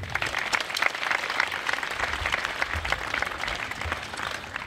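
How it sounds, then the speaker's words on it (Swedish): An audience at the opening ceremony of a new school, Torskolan in Torsås, applauds steadily, with dense, even clapping from a large crowd that holds at a constant level throughout. "Det är också värt en applåd."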